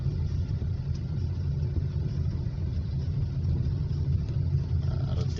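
A Hyundai Accent drives slowly through traffic on a road test after an ECU repair, heard from inside as a steady, low engine and road rumble that carries on evenly without talk.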